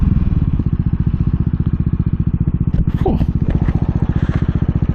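A 2022 CCM Spitfire Bobber motorcycle engine runs close by with a steady, rapid pulsing throb, rising briefly as it is revved, with a voice heard faintly over it.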